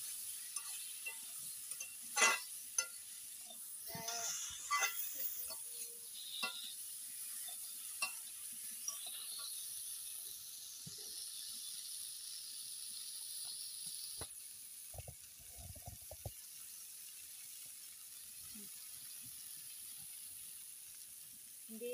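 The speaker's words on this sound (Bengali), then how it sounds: "হলুদ দিয়ে ভালো করে নেড়ে চেড়ে এটাকে ভাজবো।" Silver fish frying with turmeric in a pan gives a soft continuous sizzle, with scattered stirring scrapes and clinks, fairly quiet and steady throughout.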